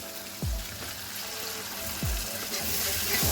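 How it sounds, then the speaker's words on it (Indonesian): Jengkol balado spice paste sizzles steadily in a pan as water is added, a constant hissing fry with a few low bumps and stirring sounds throughout. "Kita tambahkan air,"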